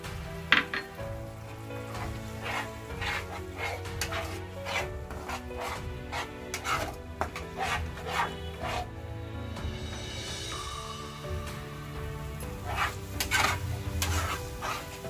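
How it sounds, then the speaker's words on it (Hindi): Chana masala curry of chickpeas is stirred and fried in a pan over a medium flame, with repeated rhythmic scraping strokes of a spoon against the pan over a soft sizzle and a steady low hum. "मीडियम फ्लेम में हमें इसे 5 मिनट तक भूनना है।"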